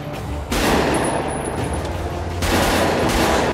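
Bursts of FN FNC service rifle fire crackle in dense, rapid succession, loud and close, with a brief lull before another sustained volley.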